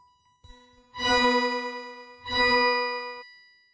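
Two bright, ringing organ-like chords through a Boss RC-505 MK2, each swelling in with a shimmering, sweeping flanger and a doubled lower octave, with a short gap between them.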